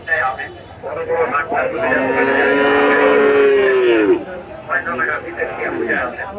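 At a cattle market, a native-breed cow lets out one long, loud, close moo lasting a couple of seconds, with people talking before and after it.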